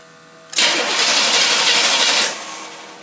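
A 1954 Pontiac engine with a two-barrel carburetor cranks and catches, a loud, steady broadband roar lasting about two seconds before dropping back to a quieter hum.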